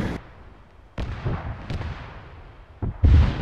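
Gunfire and explosions in a military video game, with sharp loud blasts at irregular intervals and a heavy boom near the end, rumbling decays between shots and no talk.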